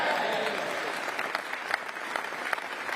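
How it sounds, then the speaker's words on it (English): A crowd at a Conservative local election campaign speech breaks into loud, sustained applause and cheering, dense clapping filling the room from start to finish. "There's a big cheer for that."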